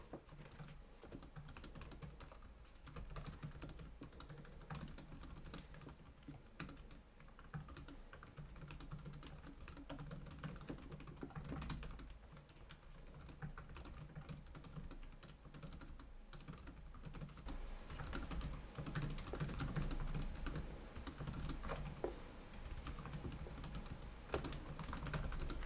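Steady, fast typing on the keyboard of a Lenovo Yoga Slim 7 Aura Edition Gen 10 laptop, a continuous close patter of soft key clicks with no talking.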